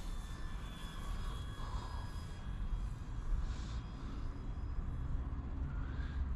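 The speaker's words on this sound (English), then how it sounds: "Do a slow flyby here with flaps down here." An E-flite Valiant RC trainer airplane makes a slow flyby with flaps down, its electric motor giving a steady, moderately loud whine over outdoor wind noise, gently rising and falling as it passes.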